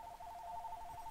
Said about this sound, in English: that's the phone ringing